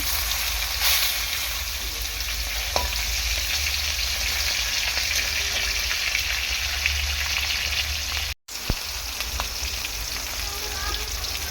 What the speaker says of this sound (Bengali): তেলটিকে বড় মাছটা আগে ভেজে নেব